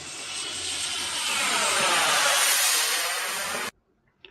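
An RC electric ducted fan jet airplane flies past, its whooshing turbine whine swelling louder through the middle before cutting off sharply, followed by near silence and a faint click.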